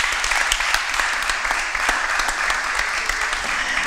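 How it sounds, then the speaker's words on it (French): An audience applauds a departing contestant on a French television quiz show, with steady, fairly loud clapping throughout and no talk over it. "en tant que champion on peut applaudir pour vous également Jules."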